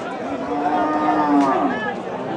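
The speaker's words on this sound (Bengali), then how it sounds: "আমরা গরুটি দেখছি," A Sahiwal cow at a rural cattle market moos loudly and close by in one long drawn-out call, with faint crowd chatter behind it.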